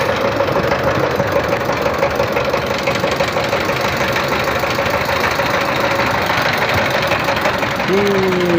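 A boat's engine drones steadily and loudly throughout a river crossing at a crowded ferry ghat, with a constant rough hum and a faint horn-like tone near the end.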